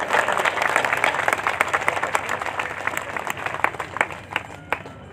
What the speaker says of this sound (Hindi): मैं चाहूँगा एक बार ताली बजाकर स्वागत करें।